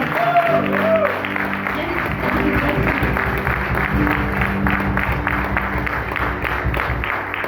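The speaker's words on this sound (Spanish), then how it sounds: "¿Cuántos le dan un aplauso al Señor?" A church congregation applauds loudly and continuously, with broad crowd clapping over a sustained tonal musical backing.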